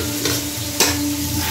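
Chillies, garlic and onion fry in a wok with a loud, close, steady sizzle. Two quick stirring scrapes cut through it, and no one talks.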